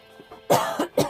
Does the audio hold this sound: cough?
yes